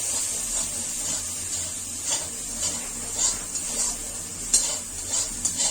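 Steady sizzle of frying in a pan while a utensil stirs with soft scrapes and occasional sharper clinks, close and fairly quiet, no speech, from an amra (hog plum) and sesame dish.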